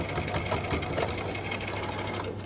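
A sewing machine runs steadily while back stitching the end of a seam on a clutch purse, giving a close, continuous rapid whirring rattle without pauses.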